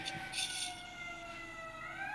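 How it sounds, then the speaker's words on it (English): An emergency vehicle siren wails through city streets as it passes, a rising and falling tone sustained throughout at moderate distance, with faint background chatter. "You guys hear that siren coming by here?"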